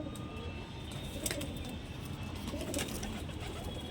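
Pigeons coo softly inside a loft, their low calls repeating amid steady background hiss and a few faint chirps.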